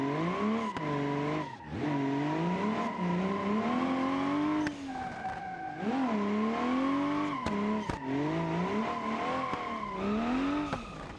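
A drift car in the BeamNG driving game, bumper torn off on a kart track, revs hard with rising and falling engine pitch while tires squeal through slides, loud and continuous with a few sharp knocks.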